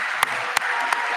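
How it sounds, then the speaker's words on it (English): A commencement crowd applauds the graduating university class of 2021, a broad, steady wash of clapping with a few sharper individual claps standing out. "Everyone, please join me once again in giving the Stockton University class of 2021 a huge round of applause"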